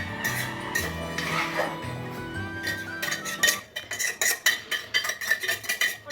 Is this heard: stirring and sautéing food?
yes